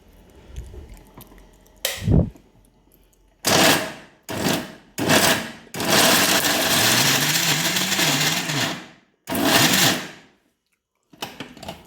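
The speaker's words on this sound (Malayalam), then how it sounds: "അപ്പോൾ നമുക്കിത് അടിച്ചെടുക്കാം." A mixer grinder grinds nuts for laddoo in several loud, whirring bursts of varying length, with short pauses and lid handling between pulses, close by and without talk.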